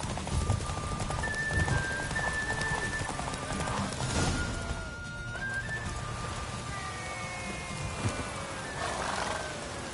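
A horse gallops in a race in The Witcher 3, with rapid clip-clop hoofbeats and repeated neighs and whinnies over a rushing background of wind and game sound.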